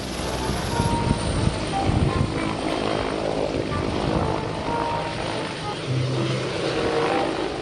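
Helicopter rotor and engine noise, a steady broadband whir with rhythmic chop, fairly close and loud throughout, with no talking over it.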